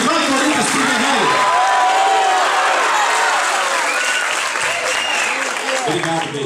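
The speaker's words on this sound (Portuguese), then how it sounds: "uma salva de palmas e um grito de vai, Corinthians, pro Guerreiro!" Theatre audience applauding and cheering loudly for the Corinthians player Guerrero, steady dense clapping with shouts and voices throughout, close and sustained.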